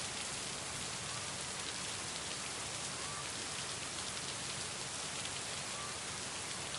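Steady rain falls in the video game Lake, a dense, even hiss of drops on surfaces that holds at a constant level throughout with no other sounds.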